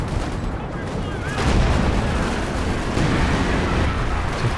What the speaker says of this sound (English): we've got some artillery flying down